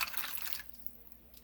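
A glass of water is poured over a ham in a pan, a soft splashing pour lasting about half a second before it stops, leaving near silence.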